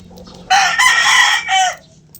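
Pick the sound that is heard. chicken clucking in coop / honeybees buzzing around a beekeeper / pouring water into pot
chicken clucking in coop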